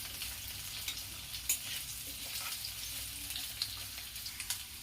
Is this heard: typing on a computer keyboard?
no